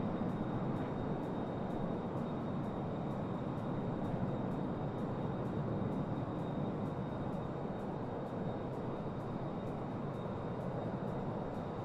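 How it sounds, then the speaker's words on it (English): Steady, loud DC-9 jet engine roar at cruise altitude in Microsoft Flight Simulator 2024, a constant broadband drone with a faint high whine and no breaks. "These engines are not quiet now."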